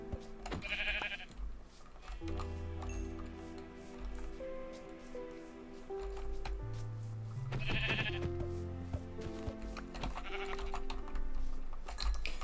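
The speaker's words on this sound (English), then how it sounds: "A 9th sheep. This is like a sheep farm." Sheep bleat in a video game, three distinct bleats spaced several seconds apart over steady tonal game music.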